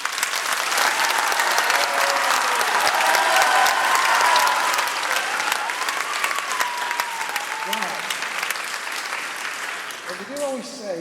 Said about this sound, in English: let's put our hands together and give a massive cheer for the brand new Tilsley Primary